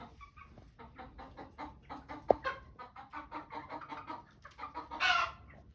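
Chickens and a newly introduced rooster cluck repeatedly in a farmyard coop, with short close clucks in an uneven rhythm and a louder squawk near the end.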